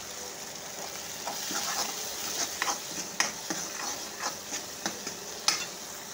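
Masala sizzles in hot oil over medium heat for soya kofta curry, with a steady hiss and repeated close scraping strokes of a spoon stirring through the pan.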